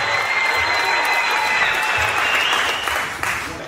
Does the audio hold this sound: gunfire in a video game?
no